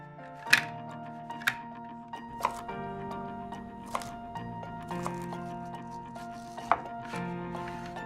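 Knife chopping vegetables on a cutting board for a barbecue chicken chopped salad, with about seven sharp, irregularly spaced chops, close and fairly clear, ringing faintly against the board.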